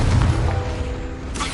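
A Confringo blasting spell from Hogwarts Legacy detonates in a short, deep boom that rolls off quickly into low rumbling game ambience.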